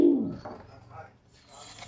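A high flying pigeon gives a low, close coo at the start, then softer murmuring follows under faint background noise.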